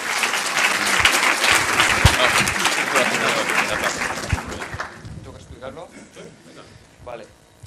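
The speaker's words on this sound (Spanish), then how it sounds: "Un aplauso, por favor." Audience applause rings out for a volunteer called up from the crowd at a presentation talk, a dense burst of clapping that swells for about five seconds, then thins into scattered claps as it fades.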